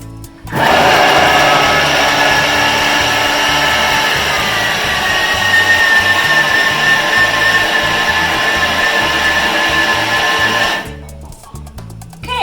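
A kitchen machine mixes butter and flour at speed 7, giving a loud, steady motor whir with a high whine for about ten seconds. It starts and stops abruptly, with quiet handling noises before and after.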